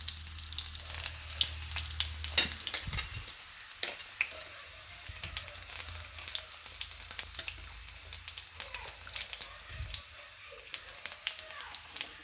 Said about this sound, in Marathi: तेल तापून घेतलं होतं, त्यात टाकलं मी लसूण